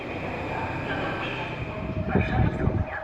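Kinga passenger train pulling into Warszawa Zachodnia station, a continuous rumbling roar of wheels and carriages that swells toward the end, with a steady tonal whine above it and someone talking over it.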